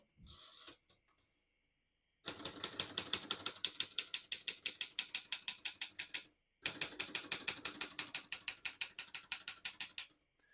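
A 1971 Consul 231.3 vintage portable manual typewriter types in two rapid runs of sharp, evenly spaced mechanical key strikes, close and crisp, separated by short pauses and preceded by a brief carriage sound.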